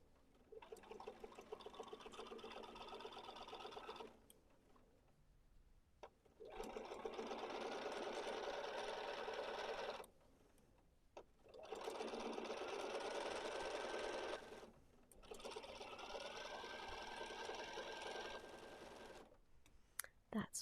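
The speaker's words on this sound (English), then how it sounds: "I'm just doing a straight stitch very near the edge of that hem." A sewing machine runs a straight stitch near the edge of a pillow hem, whirring steadily in three long runs separated by brief pauses, close and clear.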